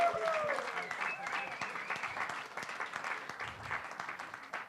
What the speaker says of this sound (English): please give him big round of applause